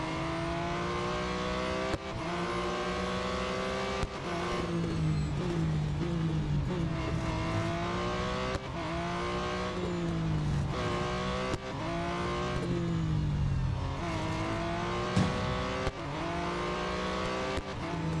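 Race cars roar through a lap in the mobile racing game Real Racing 3, engines revving up and down in steady waves with shifting pitch, occasional tire squeals, loud and continuous with no talking.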